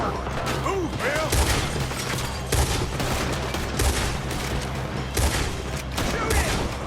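Gunfire rattles through a train-robbery shootout in Red Dead Redemption, with dense volleys of rifle and pistol shots and booming blasts that keep overlapping. Voices shout over the din.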